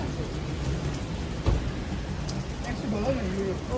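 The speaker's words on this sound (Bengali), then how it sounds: "দেখছেন কেমন বৃষ্টি হচ্ছে এখানে।" Steady rain falls outdoors in Rome in a dense, low rushing patter with a brief louder thump partway through. The sound stays continuous and nearby, with faint voices in the background.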